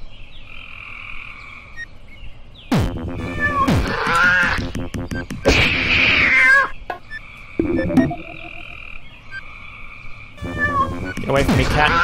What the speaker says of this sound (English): Get away from me, cat.